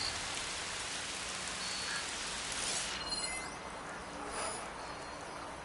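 Steady rain falls in the video game Horizon Forbidden West, an even hiss of drops hitting surfaces that runs throughout with no voices.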